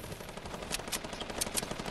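Rapid gunfire in a shooter video game, a dense run of sharp repeated shots at a steady rhythm, fairly close, with no talk.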